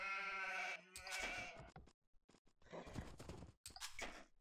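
Sheep bleat in the strategy game Age of Empires II, several loud, close bleats in quick succession with brief gaps between them.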